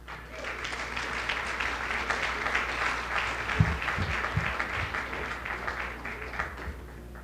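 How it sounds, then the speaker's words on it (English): Sustained audience applause at a Champions of Tourism letter presentation on St. Eustatius, a steady dense patter of many hands clapping throughout, moderately loud and continuous with no speech over it. "one more round of applause"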